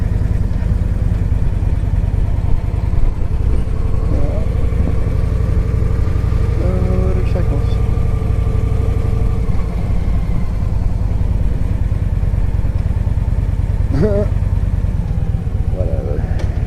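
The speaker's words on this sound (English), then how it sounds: "Yeah, a couple more bikes." Motorcycles ride past through the town streets of Gettysburg, engines rumbling steadily and loudly close by with a brief rising pass near the end, while people talk over the noise.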